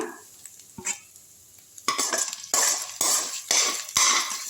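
A utensil scrapes fried bitter gourd out of a kadai, a few faint scrapes at first, then a run of louder, rhythmic metal-on-pan strokes with light sizzling beneath.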